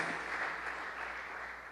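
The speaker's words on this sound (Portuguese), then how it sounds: "Vamos aplaudir o Senhor Jesus" A church congregation claps together during a Portuguese-language sermon, a brief burst of steady, dense applause with no voices heard over it.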